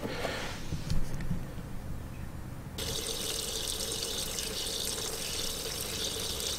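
Tap water runs steadily into a coolant container held under a faucet, a continuous close splashing rush whose tone brightens partway through as the container fills.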